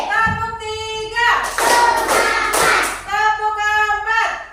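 A group claps in rhythm during a counting clap game used as an ice-breaker, with a cluster of sharp broadband claps between stretches of a voice calling the count.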